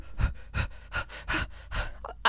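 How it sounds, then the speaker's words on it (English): Heavy panting breaths blown close into a microphone, about six rough bursts in a quick, uneven rhythm, each one loud and breathy with no talking. "sorry for those that heard my lovely breathing ASMR"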